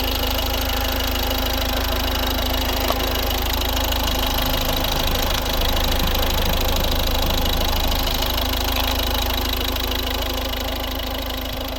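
A 2011 Volvo V50 1.6 D2 diesel engine runs continuously close by, a loud steady rumble with a faint knocking clatter throughout.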